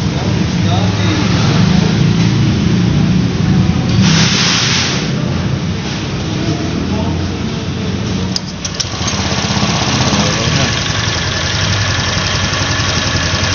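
A car engine on a throttle body test, held at full throttle with a steady, rough, loud drone throughout, slight uneven stumbling in the note, and a voice briefly heard over it.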